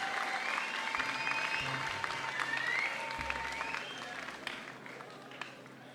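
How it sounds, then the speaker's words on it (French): An audience gives Mathilde Ramadier a sustained round of applause, dense clapping from a crowd close by that holds strong and tapers slightly near the end, with a few voices mixed in. "faire un tonnerre d'applaudissements pour Madame Mathilde Ramadier"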